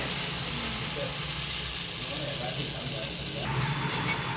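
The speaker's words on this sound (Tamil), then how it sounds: "இப்போ நல்லா சூப்பராக தோசை ஊற்றிட்டோம்" Dosa batter sizzles steadily on a hot pan, a continuous close frying hiss with a slight shift in texture near the end.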